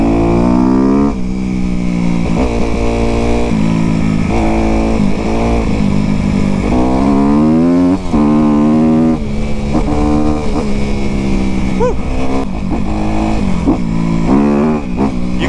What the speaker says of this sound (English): In love with a 250R. I mean, it sounds like a beast.